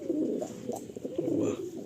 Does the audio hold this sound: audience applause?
no